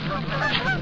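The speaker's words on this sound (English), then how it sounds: "Phantom geese sounds that play over and over again." Geese honk repeatedly in the Canada Hunt video game, a dense looping chorus of overlapping calls that fills the short stretch at steady loudness with no talking.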